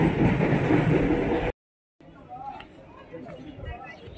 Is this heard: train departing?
yes